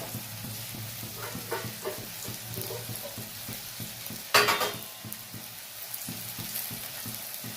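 Ground mustard and green chilli paste fries in hot oil for a kochur loti chorchori, with a soft continuous sizzle under rhythmic spatula stirring and one sharp, louder scrape-and-hiss burst midway. No one speaks.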